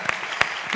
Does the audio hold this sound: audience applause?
yes